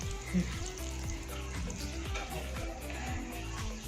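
Sweet corn kernels frying in melted butter in a pan for spicy masala bhutta give off a steady, close sizzle that runs evenly throughout, with a faint low hum beneath it.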